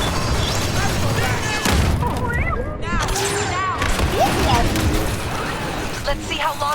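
Steady, loud Star Wars Battlefront 2 space battle of blaster gunfire, laser zaps and booming blasts, with voices talking over the constant barrage.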